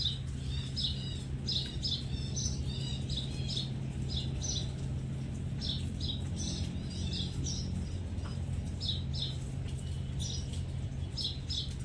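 Sparrows chirp in quick clustered bursts, repeated over a steady low hum, fairly close and continuous throughout.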